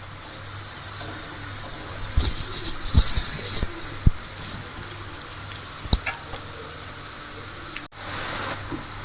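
Navaratna mixture deep frying in hot oil: a steady soft hiss and sizzle with scattered crackles and pops, briefly interrupted near the end.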